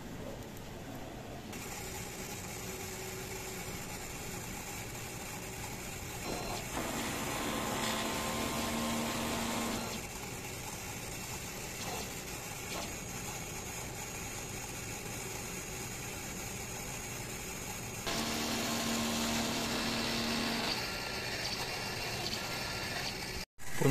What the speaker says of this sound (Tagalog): Ito po ang head clean.